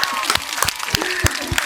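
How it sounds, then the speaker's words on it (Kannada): Applause for a young player named Chiru after a good game and a 1,500-rupee win, a short burst of clapping with sharp irregular hand claps and voices mixed in. "ಚಪ್ಪಾಳೆ ಬರ್ಲಿ."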